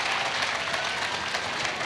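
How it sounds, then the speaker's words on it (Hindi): A short burst of dense studio audience applause during a Hindi cricket discussion show, loud and continuous for about two seconds with no pause. "तालियां हो जाए इस बात पे"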